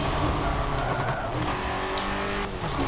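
A racing car in a video game brakes and skids, its tires squealing over a loud, continuous engine roar for a few seconds.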